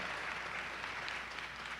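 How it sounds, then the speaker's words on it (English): Audience giving a round of applause at a talk, steady blended clapping that stays soft and distant, with no voices over it. "please give Dr. Adams a round of applause as well"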